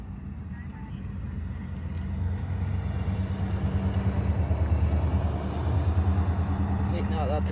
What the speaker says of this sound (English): now that the car's passed